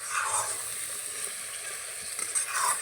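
Masala paste sizzling steadily in hot oil while being stirred, a close, continuous hissing fry with faint scraping and no voices, for a Bengali katla fish rezala.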